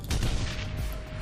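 A single gunshot goes off in the Shadowrun: Hong Kong video game, a short, fairly quiet boom with a brief rumbling tail, heard on its own.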